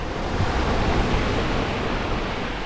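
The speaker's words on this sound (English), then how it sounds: "Hear the surf coming in?" Surf rolls in at foggy Keeha Beach with a broad, steady roar of waves that swells slightly, close and loud, with no speech.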